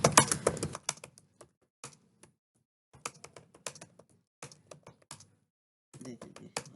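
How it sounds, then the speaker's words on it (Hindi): Urdu text being typed on a computer keyboard, close irregular bursts of key clicks separated by short pauses, with a faint voice briefly underneath. "तो आपने उर्दू टाइप कर लेनी है।"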